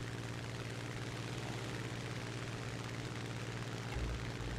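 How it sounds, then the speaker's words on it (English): A steady, droning aircraft engine hums continuously in a combat flight simulator game, with a slight surge in low rumble near the end. "Using throttle, you can hear the engine revving up and down."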